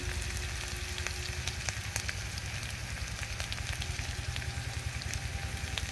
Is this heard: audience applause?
no